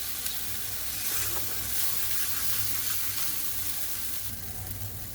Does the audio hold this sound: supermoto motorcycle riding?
no